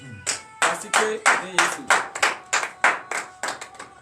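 A church congregation at a morning prayer service in Benin claps hands in praise, a close, even, rhythmic series of about a dozen sharp claps with faint voices underneath.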